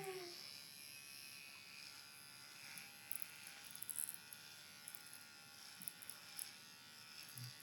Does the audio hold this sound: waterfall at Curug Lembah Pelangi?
no